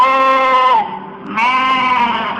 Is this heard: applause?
no